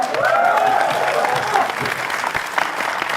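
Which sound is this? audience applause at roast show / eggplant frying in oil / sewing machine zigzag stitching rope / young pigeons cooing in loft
audience applause at roast show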